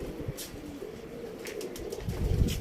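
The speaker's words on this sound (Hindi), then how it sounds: "ये कबूतर है सब" A flock of pigeons coos softly in a low, continuous murmur, with light fluttering and scattered outdoor noise over a steady background.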